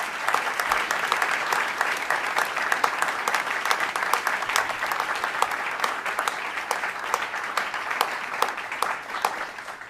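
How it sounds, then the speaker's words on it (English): A room of audience members at a NASA headquarters briefing claps for a team, a dense and steady round of applause sustained for the full ten seconds, moderately loud and free of speech. "Let's give this team a round of applause."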